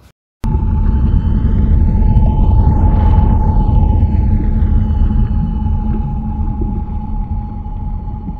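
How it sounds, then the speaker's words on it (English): A submarine's deep, continuous underwater rumble with a steady tonal hum and a sweeping sonar-like sound, loud and sustained after a brief quiet start. "S is for submarine."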